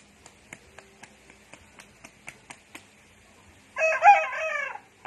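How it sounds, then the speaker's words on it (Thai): Young pet rooster on a Thai home farm gives a short, rough, cracking crow after a series of faint pecking taps, close and alone. "โอ้โหเริ่มขันเพาะขึ้น"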